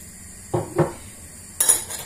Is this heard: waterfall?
no